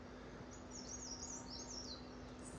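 Birds chirp and call near a restaurant in Manali, a steady chorus of high twittering over a constant low hum and background hiss, with no voices.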